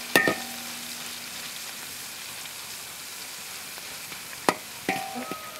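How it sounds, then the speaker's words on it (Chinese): Pickled long beans stir-fried with ginger and chili give off a soft, steady sizzle, broken by a few sharp spatula clinks against the pan near the start and end. "再炒一下，多炒点香一点。"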